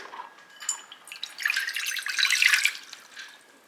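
A cup of water is poured into a microwave-safe bowl, making a soft, close splashing trickle that swells for about a second and then tapers off in a quiet room.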